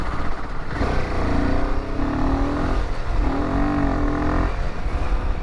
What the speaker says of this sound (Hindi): दोपहर के समय का ट्रैफिक